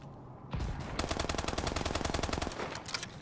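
Automatic gunfire in Call of Duty Advanced Warfare multiplayer, a loud rapid burst of evenly spaced shots running about two seconds, with a few scattered shots trailing after it.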